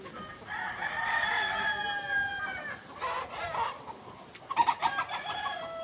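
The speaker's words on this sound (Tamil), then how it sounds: "இங்கே பாருங்க எத்தனை கோழி இருக்குதுன்னு பாருங்க." Chickens clucking around a large young rooster in a backyard flock, with long drawn-out crows rising over scattered nearby clucks, then a burst of rapid sharp calls near the end.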